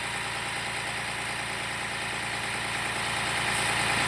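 A Tata BS6 truck diesel engine idles steadily at raised revs during active DPF regeneration, a continuous dense rumble with a slight rise toward the end, close and loud with no speech.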